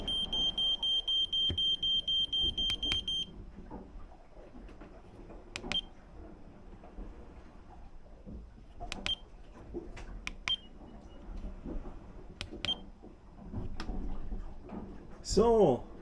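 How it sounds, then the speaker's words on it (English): An AIS alarm on a sailboat beeps in a rapid, regular high-pitched pattern for a few seconds, then stops, followed by scattered clicks and knocks, a voice, and rustling. "So, this have been my alarm."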